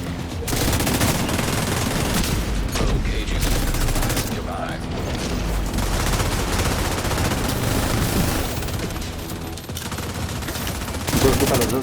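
Rapid, sustained gunfire from The Division video game, with loud bursts of automatic shots rattling almost continuously throughout, under a busy mix of game effects.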